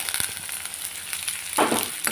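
Steady sizzle of onions sautéing in hot oil with curry leaves and a dried red chilli, faint stirring scrapes, and a brief louder burst of frying near the end as something is moved in the pan.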